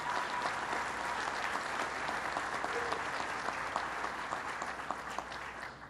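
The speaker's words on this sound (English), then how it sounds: "let's give a big round of applause to Rabbi Schneier for his inspiring words." Sustained applause from a large crowd at a 9/11 memorial gathering, a dense, even wash of clapping that holds steady throughout at moderate distance, with no speech on top.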